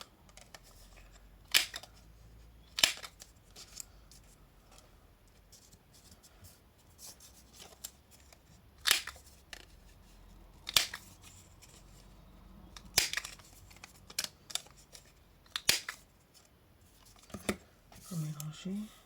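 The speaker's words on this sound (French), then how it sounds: "je vais venir arrondir tous les coins" A corner rounder punch clips the corners of paper in a series of sharp, separate snaps spaced a few seconds apart over quiet handling and rustling.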